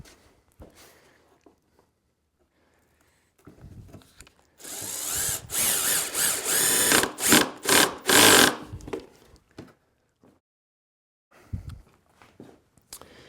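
Cordless power driver with its clutch set light, driving screws into 3/4-inch plywood for a bathroom vanity build: a series of loud, short whirring bursts in quick succession with brief pauses, then quieter handling noises.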